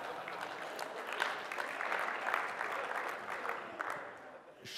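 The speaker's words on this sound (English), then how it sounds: "How about one more round of applause?" An audience at a wireless networking conference session gives a steady round of applause, a dense, even wash of clapping that holds for several seconds before tapering slightly at the end.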